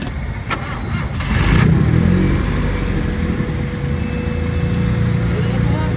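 A car called Luna cranks and fires up after a loose hose is fixed, the engine catching with a burst and settling into a loud, rough, close idle.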